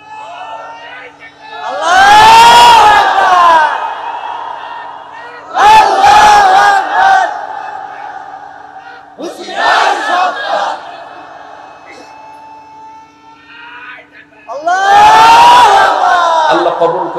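A crowd at a Bangla Islamic sermon (waz) shouts slogans in unison, four loud roaring bursts separated by short pauses, with a low hum underneath.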